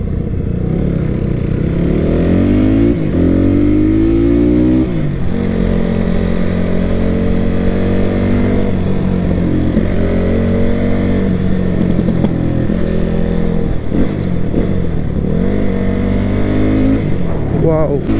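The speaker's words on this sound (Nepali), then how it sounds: "यस्तो त लाउड सुनिन्छ होइन बाइकको साउन्ड झन् ठुलो." A motorbike's engine drones loudly and steadily on the road for the whole stretch, with the pitch rising and falling as it accelerates and shifts.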